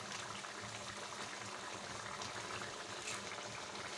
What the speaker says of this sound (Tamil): நல்லா கொதி வந்துருச்சு